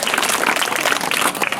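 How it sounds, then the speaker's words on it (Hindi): Schoolchildren clapping together at a student program ceremony in Kalimati, Lanji, a steady dense round of applause filling the whole moment without any talk. "और सोनवानी साहब के लाने भी ताली बजाओ"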